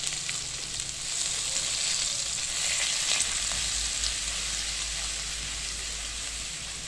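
Curry leaves, asafoetida and a ginger, garlic and fresh coconut paste sizzle in hot oil, a loud, steady crackling hiss that runs unbroken throughout with no talking.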